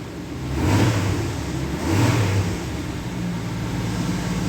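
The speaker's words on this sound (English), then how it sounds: "The little slanter roars to life." A Dodge truck's slant-six engine fires up and revs twice in quick swells, then settles into a steady, rough idle close by.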